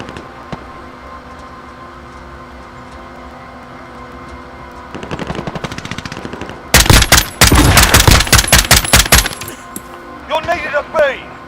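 Bursts of automatic gunfire from the video game Modern Warfare, starting as scattered shots and swelling into loud, rapid, sustained volleys before trailing off into a few later shots.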